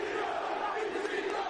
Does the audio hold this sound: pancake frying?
no